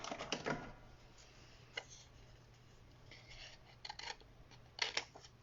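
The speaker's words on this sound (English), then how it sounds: "grab a pair of scissors and cut that off" Scissors snipping through paper while trimming a watercolour background; a few quiet, crisp cuts in short clusters, fairly close, with no talking.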